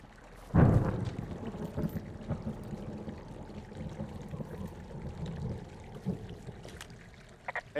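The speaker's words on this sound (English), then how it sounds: "Hey, I heard some thunder." Distant thunder in the video game Firewatch rolls in as one low rumble near the start, then fades into a long faint grumble over quiet forest ambience, with no voices.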